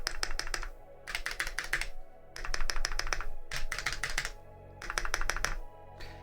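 Typing on a Keychron mechanical keyboard, a V1 or V1 Ultra 8K, with fast bursts of crisp key clicks in four clusters separated by short pauses, close and clear with no talking.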